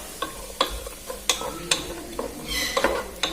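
Four sliced onions sautéing in a pan with a soft sizzle of frying, while a utensil scrapes and taps against the pan in irregular strokes. The sound is close and has no talk over it.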